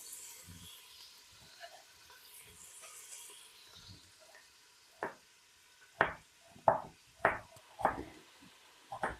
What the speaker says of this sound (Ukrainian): починаємо смажити цибульку